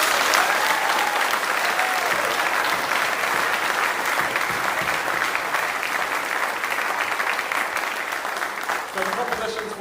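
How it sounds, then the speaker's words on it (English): A school arts awards audience gives a competition-winning student a sustained round of applause, dense and steady throughout before easing slightly near the end. "round of applause."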